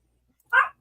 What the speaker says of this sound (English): But you do hear dogs barking in the distance.